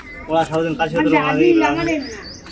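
An aggressive pigeon held in someone's hand gives soft, throaty coos close to the microphone while someone speaks over it.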